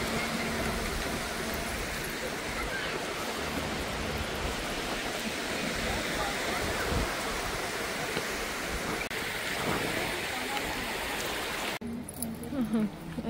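Steady broadband wash of sea waves on a shore, continuous and fairly loud throughout, with a sharp change near the end as the sound drops and shifts.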